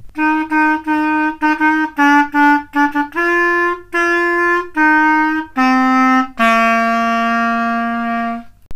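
A clarinet plays the Jingle Bells melody of repeated notes, several short detached tones followed by longer held ones, clear and close with no voices.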